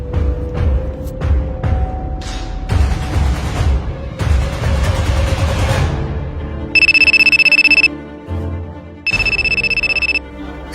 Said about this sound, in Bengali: আমার একটা ইমার্জেন্সি ফোন আসছে বাসার থেকে